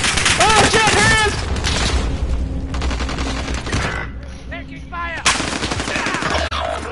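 Rapid automatic gunfire in the video game Warzone crackles in bursts, loud and close at first and then thinner, under excited shouting from players.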